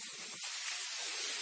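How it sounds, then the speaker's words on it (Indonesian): Garlic sizzles as it is sautéed in a hot pan, a steady, bright hiss that swells slightly as it continues, heard up close with no talking. "Nah, kita masukkan bawang putihnya. Kita tumis sampai"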